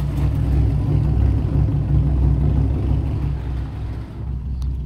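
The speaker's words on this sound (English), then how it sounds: "It does have an exhaust leak. That's what that ticking noise is." Modified car idling with an exhaust leak, MSD wires and an imported intake, a steady low engine rumble with a faint ticking in it, close and constant, easing slightly near the end.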